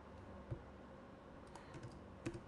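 Soft, sparse keystrokes on a computer keyboard, a few quiet isolated clicks and a short burst of taps, close and faint against low background hiss.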